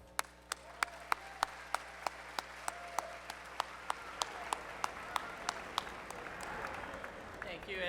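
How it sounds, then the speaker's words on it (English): At an evening luau event at Pacific University, an audience applauds the president with evenly spaced, sharp claps in a steady rhythm, close and distinct. A soft crowd murmur builds beneath them toward the end. "give a big warm round of applause for our president"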